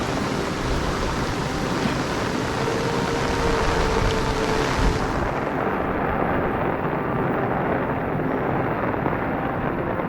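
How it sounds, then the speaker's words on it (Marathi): Rain begins falling over a village path in Shringarpur, a dense, steady hiss that fills the whole stretch and eases slightly in brightness partway through, with no voices. "पाऊस सुरू झाला"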